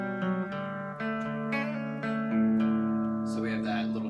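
Electric guitar plays the fourth bar slowly, a run of sustained single notes and a held bend, with a quick flurry near the end, close and alone.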